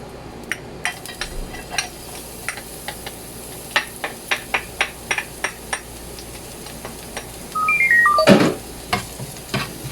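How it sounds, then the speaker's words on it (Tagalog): Chopped red onion hits hot oil in a pan, giving a soft steady sizzle with scattered stirring clicks and taps of a utensil against the pan, plus a brief louder burst of sizzling near the end. "the area of the pan has oil. And you put the onion."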